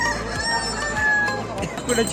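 Roosters crow at a rural cockfighting fair, a drawn-out crowing call rising above a murmuring crowd and nearby voices, fairly close and moderately loud.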